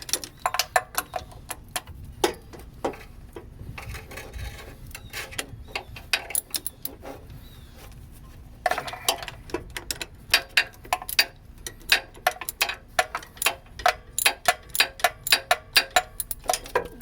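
A ratchet wrench works a 13 millimeter bolt loose on a car, giving bursts of quick, fairly loud clicking ticks that come and go, with a denser run of rapid clicks near the end.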